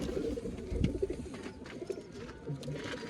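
Pigeons coo softly and continuously in a loft, several birds overlapping in a low, murmuring chorus amid gentle background rustle.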